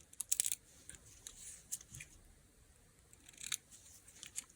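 Scissors trimming junk journal paper and fabric, a few quiet close snips in short clusters over soft room noise.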